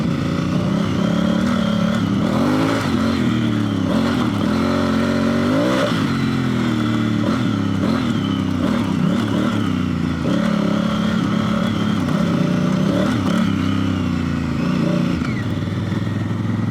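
KTM 790 Adventure R motorcycle ridden off-road on Dunlop Trailmax Mission 50/50 tires, engine loud and close throughout, rising and falling with throttle changes over wind and clatter.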